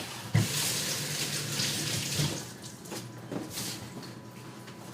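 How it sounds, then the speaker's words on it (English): Water running steadily from a kitchen tap while hands are washed, a close, continuous broadband splash with small surges and no voices. "And wash my hands."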